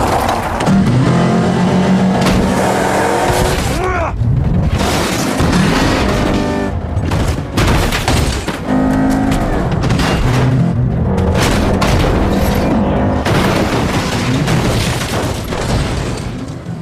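A car chase plays out as a continuous, loud barrage of engine roar, metal grinding, sharp gunshot-like bursts and heavy booming impacts ending in a violent vehicle collision, with no speech.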